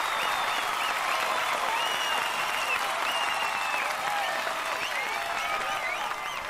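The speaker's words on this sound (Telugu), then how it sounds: "ఇంకా మీరు చేస్తున్న ఈ చప్పట్ల సౌండ్కి" A large audience applauds in a steady, dense wash of clapping that stays loud and even throughout, with crowd noise underneath and no clear speech.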